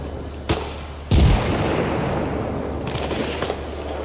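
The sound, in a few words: machine gun firing in video game ARMA Reforger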